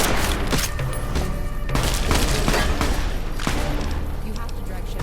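Dense gunfire and booming explosions in the Fallout game, Tale of Two Wastelands mod, a continuous loud barrage of shots and thuds throughout with voices mixed in.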